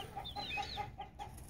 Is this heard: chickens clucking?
yes